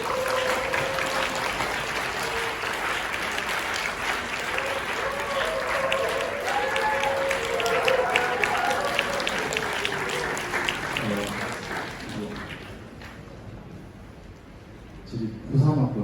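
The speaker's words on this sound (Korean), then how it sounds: "우리 목사님 앞으로 모실 때 우리 한번 큰 박수로 환영하도록 하겠습니다" A large church youth retreat audience gives a big round of applause to welcome the pastor, a dense, steady clapping that fills most of the stretch before fading out near the end.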